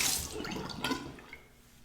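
Water from a tap splashing over a Fatip Il Grande open comb copper safety razor as shaving cream is rinsed off, a short close gush that fades toward the end.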